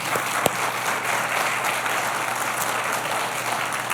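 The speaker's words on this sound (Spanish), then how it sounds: "quiero dar un aplauso al Señor" Steady applause from a crowd fills the whole stretch, dense and even, with one sharper clap standing out near the start.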